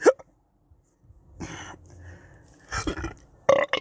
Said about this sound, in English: Hiccup and a burp at the same time.